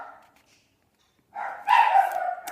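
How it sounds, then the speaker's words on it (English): Household dogs bark from nearby in a short burst after a quiet pause, the sound muffled and somewhat distant, rising to a couple of louder yaps at the end. "And there's my dogs on cue because I'm making a video. They have to bark."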